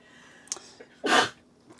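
A single short sneeze bursts out after a small sniff or catch of breath, fairly close and clear against a quiet room.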